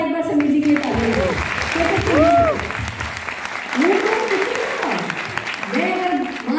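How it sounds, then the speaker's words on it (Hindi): An audience at a motivational talk applauds throughout, with continuous clapping beneath amplified speech. "जोरदार एक बार समीर जी के लिए ताली हो।"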